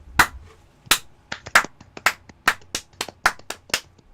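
Scattered clapping in a live Star Trek: Discovery review stream, about a dozen loud, close, uneven claps spaced irregularly apart with silence between them.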